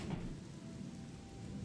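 Steady rain in the video game Gothic, a constant broadband wash with low rumbling underneath, continuous and even throughout with no talking.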